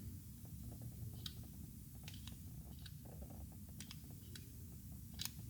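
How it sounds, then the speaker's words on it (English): A Chiappa Charging Rhino 60-D 9mm revolver's six-round cylinder being rotated, giving a string of soft, close mechanical ticks and faint clicks over a low background hum, with no talking. "The cylinder also turns, the rotation is very, very smooth."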